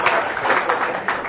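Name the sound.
audience applause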